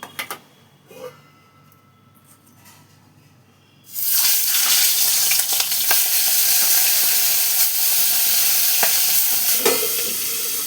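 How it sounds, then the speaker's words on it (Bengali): Singhi fish slipped into hot oil: a quiet kitchen at first, then an abrupt loud, steady sizzle with sharp crackling pops that carries on to the end. "আমি ঢাকা চাপা দিয়ে, দেখছো কেমন ফাটার আওয়াজ হচ্ছে"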